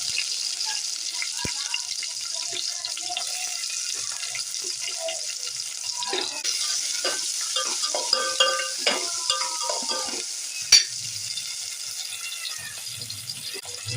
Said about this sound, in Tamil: பெருஞ்சீரகம் எல்லாம் வச்சுருக்கேன் அதை தாளிச்சிக்கலாம் அடுத்து நம்ம வெங்காயம் சேர்த்துக்கலாம்